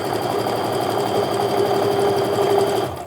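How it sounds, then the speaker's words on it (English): Sewing machine stitching a regular quarter-inch quilting seam, a steady rapid mechanical whir running continuously and close up, then slowing and stopping at the very end. "We're just gonna sew our regular 1/4" seam."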